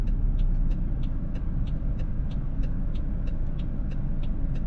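A car slowly drifts in to park at the curb, its engine and road noise a loud steady low rumble with a regular faint ticking, presumably the turn signal, over it and no talking.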